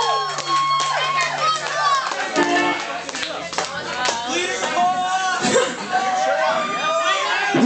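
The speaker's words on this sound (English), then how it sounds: "give this motherfucker a round of applause" Crowd at a live stand-up comedy show bursts into applause with whoops and cheers, mixed with lively crowd voices and laughter throughout, loud and close, filling the room without letup.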